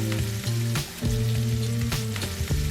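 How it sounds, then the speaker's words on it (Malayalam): Curry leaves and aromatics are sautéed and stirred in a pan for a Kerala-style sardine curry, with a steady close sizzle and frying crackle, punctuated by repeated stirring scrapes and clicks. "എല്ലാം നന്നായിട്ടൊന്ന് ഇളക്കി വഴറ്റിയെടുക്കാം."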